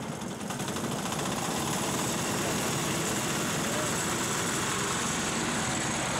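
A diesel-powered Wheel Horse garden tractor runs at a show parade with a loud, steady, rattling engine chug close by, continuous for the whole stretch.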